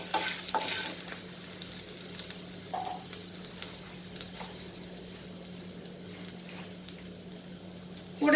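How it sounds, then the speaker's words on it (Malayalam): Dried red chillies frying in hot oil, added after fenugreek seeds for a Kerala-style curd-chilli pickle; a soft, steady sizzle and crackle with a few faint stirring scrapes, no talking. "ഇനി നമുക്ക് കുറച്ച് വറ്റൽമുളക് ഇട്ട് കൊടുക്കാം."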